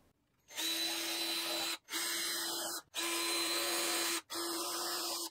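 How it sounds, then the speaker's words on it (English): Four bursts of a power drill with a 3/32-inch bit drilling pilot holes for blind brackets, whining at steady speed, each a second or so long, separated by brief pauses, close and loud with no talking. "with my drill, using a 3 32nd inch drill bit, we're gonna drill a couple pilot holes"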